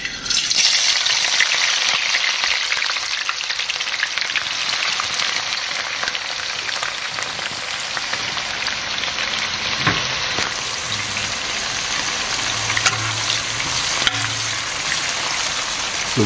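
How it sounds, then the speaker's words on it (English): Chopped onion fries in hot oil for a rice stew, giving a continuous, even sizzle and crackle that lasts throughout, close and fairly loud, with a few faint low knocks near the end. "All right, I'm going to add the onion."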